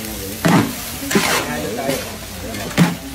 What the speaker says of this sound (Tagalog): Ganito lang paghalo nyo. Mabilisan lang.